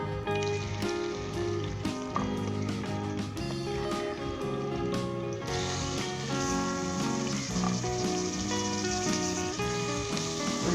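Onions frying in about three tablespoons of hot oil for a nargisi kofta curry give a steady, close sizzle that runs the whole time beneath loud background music.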